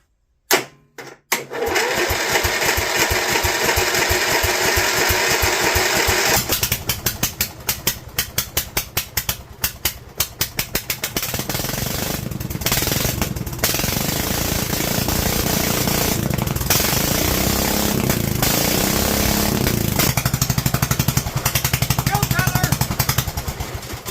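A revived John Deere racing mower with a Kohler engine cranks, stumbles through rapid firing pulses, then catches and roars loudly and steadily, the revs rising and dipping close by with brief sputters.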